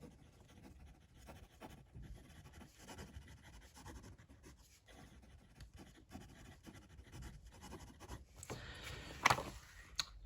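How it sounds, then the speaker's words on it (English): A Majohn M400 fountain pen writes quickly across paper, a faint continuous scratchy rustle of nib strokes with short pauses, ending in a slightly louder scratch. "And when I do quick writing,"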